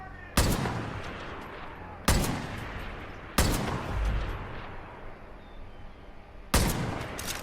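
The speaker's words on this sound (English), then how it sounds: "Let's see how many I can shoot before they finally figure out that I'm in this direction." Four loud, sharp gunshots from Far Cry 5, each cracking out alone and trailing off in a long echoing decay, spaced unevenly a second or more apart over a quiet outdoor background.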